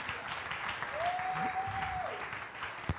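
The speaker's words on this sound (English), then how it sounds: "Clap for Jesus, somebody." Church congregation clapping during a sermon, a steady wash of applause with a brief whistle-like tone through the middle and a sharp clap near the end.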